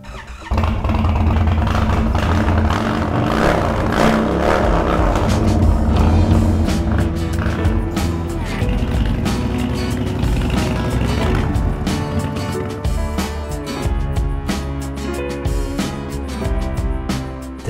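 A custom Indian Sport Chief motorcycle engine roars loud and close, a steady heavy rumble with rising and falling revs that holds for the whole stretch, with no talk.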